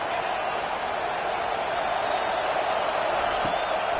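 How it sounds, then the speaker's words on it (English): A stadium crowd in the College Football 25 video game roars steadily on a third-and-long play, a dense, even wash of cheering noise holding at the same loud level throughout with no voices standing out. "Defense getting a boost from this crowd on third and long."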